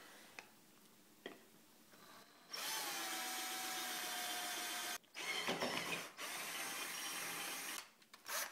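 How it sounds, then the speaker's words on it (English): A power drill bores a hole for a boost leak detector fitting on a 7.3L diesel, a steady loud whine with a brief pause midway, preceded by a couple of quiet clicks. "just start drilling"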